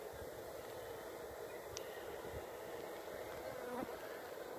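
Honeybees fanning their wings at the entrance of a swarm box, a faint continuous buzzing hum with a few louder passing bees, quiet and outdoors.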